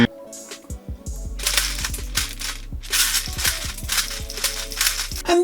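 Airsoft BBs rattle and click into a speed loader in quick, uneven bursts of small hard pellets against plastic, close and fairly loud, with no talking.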